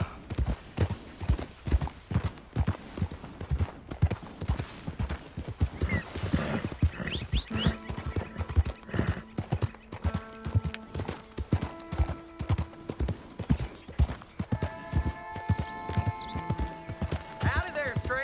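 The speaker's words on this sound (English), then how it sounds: "that's a nice-looking horse you have there" Rapid, regular horse hoof clip-clops in Red Dead Redemption 2 carry through the whole stretch while voices speak over them at moderate loudness.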